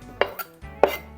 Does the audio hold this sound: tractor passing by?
no